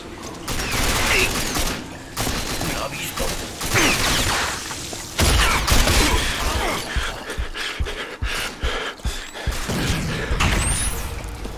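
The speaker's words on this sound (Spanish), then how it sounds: "Está disparando." Gunfire in the shooter Rage, dense overlapping shots and mechanical clatter forming a loud, chaotic barrage over rumbling background noise.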